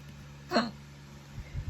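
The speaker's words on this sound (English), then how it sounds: "I have hiccups." A single short, sharp hiccup pops out close to the mic, followed by quiet low breathy noises.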